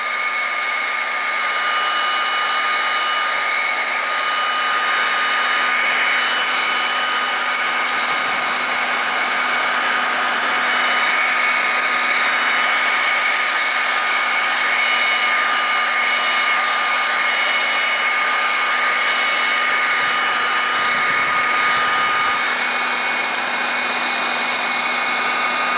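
A small handheld vacuum cleaner runs close by with a constant, loud, high-pitched whine and airflow hiss that holds steady the whole time, with no talk.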